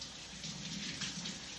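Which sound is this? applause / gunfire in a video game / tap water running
tap water running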